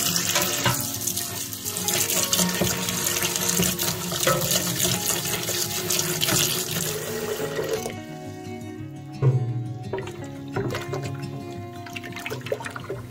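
Water pours steadily from a tap into a dye pot holding safflower petals, making an alkaline bath; a continuous loud rushing and splashing that changes pitch and thins out partway through as the pot fills.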